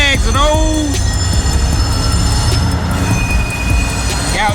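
Loud train passing close by, steady rumbling and rattling of wheels on rails with high squealing tones and sliding metallic whines at the start, filling the clip continuously.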